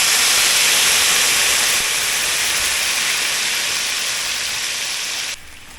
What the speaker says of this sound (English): Now we're going to let that simmer.